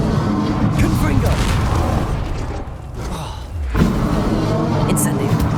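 A Confringo fire-blast spell from Hogwarts Legacy erupts as a loud booming burst over dense, continuous game action, with a brief dip before another surge of roaring energy.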